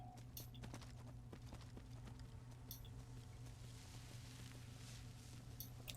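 Horse hooves galloping in the video game Skyrim, a faint, rapid patter of clip-clopping steps running steadily under a low droning hum.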